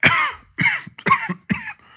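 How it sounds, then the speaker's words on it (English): Four close, harsh coughs in quick succession from one person, loud and near, with a faint trailing breath at the end. "Sorry for my cough."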